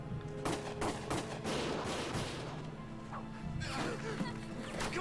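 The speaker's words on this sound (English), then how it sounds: "Gunfire!" Gunfire in the video game Valkyria Chronicles sounds as repeated sharp cracks and bursts of shots, dense and fairly loud, mixed with battle noise.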